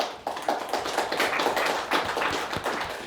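A studio audience at a televised high school quiz show applauds a quiz team, giving dense, steady clapping from many hands at moderate loudness throughout, with no voices over it.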